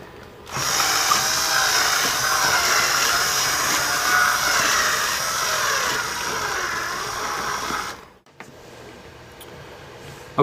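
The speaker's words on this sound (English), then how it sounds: "I'm going to drill into the hole here." A power drill widens a hole in a Vaio laptop during a power jack repair, whirring steadily for about eight seconds, loud and close, then cutting off abruptly, leaving faint room noise.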